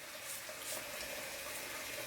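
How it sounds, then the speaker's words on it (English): Running tap water fills a bathroom sink while water is splashed onto a face before shaving, a steady close rushing hiss with no talking. "Let me put some water on my face here."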